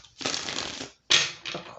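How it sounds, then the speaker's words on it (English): A deck of cards is shuffled by hand in two quick riffling bursts, the second after a short pause, close and crisp with no talking. "I always like pre-shuffle the cards"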